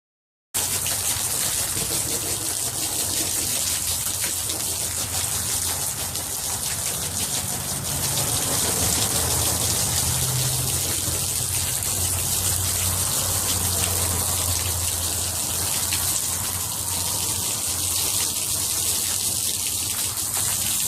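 Water pours steadily onto swelling flood bags laid across a doorway, making a continuous loud gushing and splashing rush that holds for the whole stretch with no voices.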